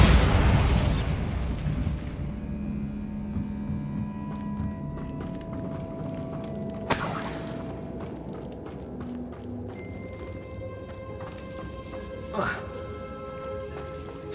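A Bombarda blasting-spell explosion in the Hogwarts Legacy video game, a loud burst at the start that decays into a rumbling tail, followed later by smaller pops and impacts.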